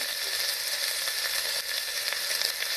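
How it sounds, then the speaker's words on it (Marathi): Onion, green chili and garlic fry in hot oil for a pumpkin curry, giving a steady, close, broadband sizzle with faint crackles throughout and no talking. "तेल झालेलं आहे गरम आपला कांदा हिरवी मिरची लसण मस्त आपलं टाकून घेतलेलं आहे मी"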